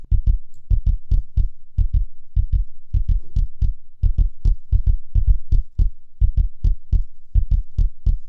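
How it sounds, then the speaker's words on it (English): A punk-record kick drum, tightened with a transient-shaping plugin, hits alone in a steady groove of short, punchy low thumps, often in quick pairs, with a snappy attack and clipped tail. "so I get a really great short sounded kick"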